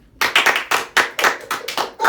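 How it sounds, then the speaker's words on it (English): A single person claps alone, about nine sharp, close hand claps in a quick, slightly uneven rhythm with brief gaps between them. "Let's clap it up."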